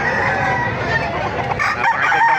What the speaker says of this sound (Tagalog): napakagandang manok ng kaibigan natin ito